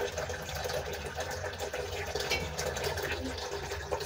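Water being filled for boiling ugali, a steady rushing, gurgling stream that runs throughout at moderate level alongside a low mechanical hum.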